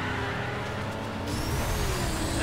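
Cars racing in the video game Burnout, a steady dense engine roar with a brighter high whine entering halfway through, loud and continuous with no talking.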